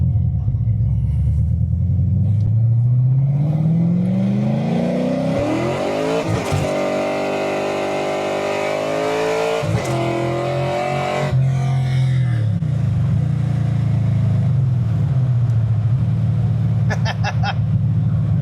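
A Ford-engined car revs hard and accelerates from first through third gear, pitch rising then dropping at each shift, loud and close with a rumbling exhaust.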